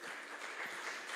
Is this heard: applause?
yes